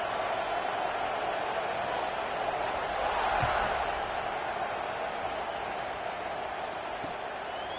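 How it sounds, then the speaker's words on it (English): Stadium crowd buzzing in College Football 26, a steady, dense roar of many voices filling the whole stretch at even loudness, with commentary-style talk over it. "this crowd is buzzing after that last score"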